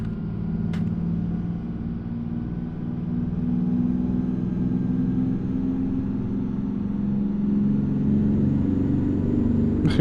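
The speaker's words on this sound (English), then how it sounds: "She sounds like a NASCAR engine." A modded truck engine in American Truck Simulator drones with a deep, steady rumble that swells slightly as it revs, holding loud and constant throughout with a couple of faint clicks on top.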